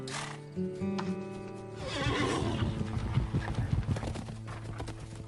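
Horses whinny loudly and close up, with repeated neighs over a brisk clip-clop of hooves that grows denser as the animals move.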